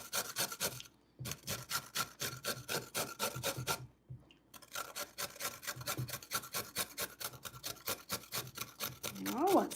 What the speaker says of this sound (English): I'm grating the carrots for my dumplings.